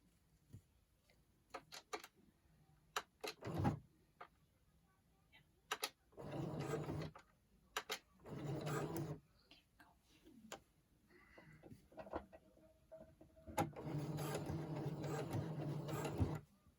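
A sewing machine stitching fabric pieces joined with Wonder Tape runs in short bursts and one longer run, close and fairly quiet, separated by clicks and small handling ticks.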